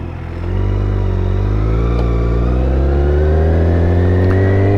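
BMW K1600GT motorcycle descending Highway 9 at dusk, its engine note rising steadily as the rider accelerates, loud and close with a smooth continuous drone and no talk.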